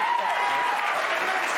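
A television studio audience applauds warmly, a brief, loud, continuous burst of many hands clapping together.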